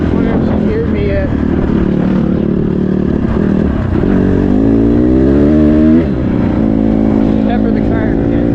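A Honda CRF150R dirt bike with new gearing and a new coil is ridden close up, its engine droning loudly and revving up and down through gear changes, with wind noise over the top.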